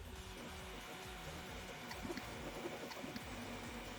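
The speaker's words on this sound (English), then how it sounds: "The only fan you can hear is the fan coming, or the fan on the printer." A 3D printer's cooling fan runs with a steady, faint airy whir throughout, joined by quiet soft clicks from the machine and no talking.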